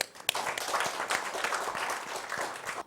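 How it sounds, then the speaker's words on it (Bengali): An audience claps together for three remaining contestant teams on a televised quiz show, a dense, steady wash of hands beating throughout that starts sharply and fades slightly at the end. "বাকি তিন বন্ধুর জন্য করতালি হবে জোরে"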